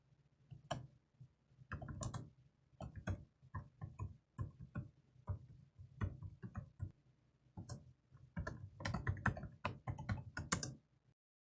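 Bursts of keystrokes on a computer keyboard at a terminal, irregular clusters of close, light clicks separated by short pauses, with no talking.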